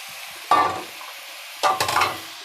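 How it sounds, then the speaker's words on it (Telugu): Pieces of elephant yam and raw banana hit hot oil with onions in a pan, giving two close, sharp bursts of sizzling and frying, each tapering off, with quiet between. "ఇప్పుడు కట్ చేసుకున్నటువంటి కంద, అరటికాయ ముక్కలు కూడా వేసుకుందాం. ఎందుకంటే ఇవి కూడా అందులో కొంచెం ఫ్రై అవ్వాలి."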